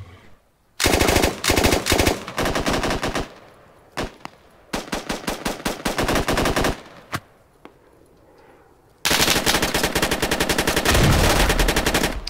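Automatic weapon fire in the video game Squad, loud close bursts of machine-gun shots in several strings, a short pause, then a long sustained burst at the end.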